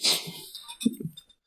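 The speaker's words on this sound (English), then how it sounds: "Hold on, I got sneeze." A single sharp sneeze bursts out close by, followed by a short breathy sniff and faint murmuring.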